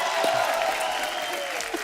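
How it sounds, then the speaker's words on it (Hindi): Loud, dense applause from a studio audience for the star cast of The Fame Game on a comedy show, a continuous burst of clapping with a sustained tone running beneath it. "एक बार जोरदार तालियां द फेम गेम की पूरी स्टार कास्ट के लिए"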